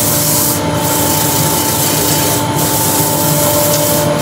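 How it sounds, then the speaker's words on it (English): 150-grit abrasive rubs steadily over a turned wooden bowl, a loud, close, continuous rasping hiss with a faint recurring pulse as the paper sweeps the surface. "Let's go over with a 150 and then we'll get the rotary sander on."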